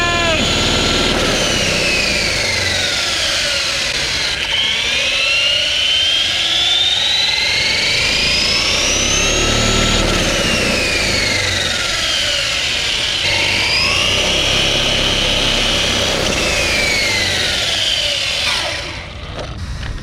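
A Traxxas E-MAXX RC monster truck with a manual two-speed transmission and twin Titan 550 motors whines steadily for about twenty seconds, the pitch sweeping up and down repeatedly as it accelerates and shifts, loud and close.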